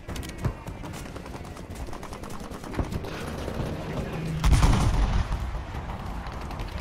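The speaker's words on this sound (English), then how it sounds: "I just sniped the guy with the pistol" A pistol fires a few times in a multiplayer shooter, with sharp reports over constant battlefield noise and a heavier boom near the end.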